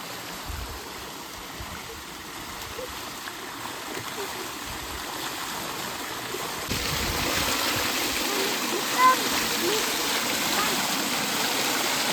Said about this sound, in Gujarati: આ રીતનું ખેતરમાં પાણી જાય છે.